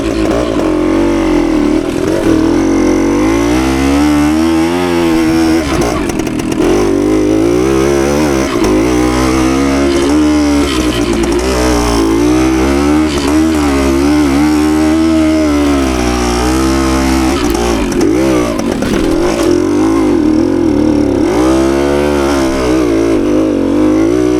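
Nearby 52-year-old 1970s Suzuki TS185 two-stroke trail motorcycle tackling log crossings and off-camber ground, its engine revving up and down in repeated surges and bursts, loud and continuous throughout.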